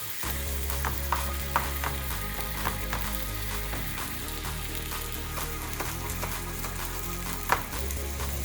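Miso-glazed lamb chops sizzle and spit in a hot pan, a continuous close frying hiss with small pops and scraping stirs throughout.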